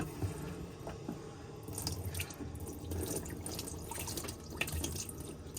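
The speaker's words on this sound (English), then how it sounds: "making sure that your pump's on, you'll be able to use your taps" Water runs steadily from a motorhome kitchen tap into the sink, a continuous splashing stream heard close and fairly quiet, with no voices over it.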